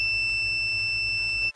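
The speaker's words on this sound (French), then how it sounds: "Si je fais toucher les deux pointes de touche, ça fait bip." A multimeter continuity tester gives a steady electronic beep continuously for over a second as its probes touch, then cuts off abruptly, with a low hum underneath.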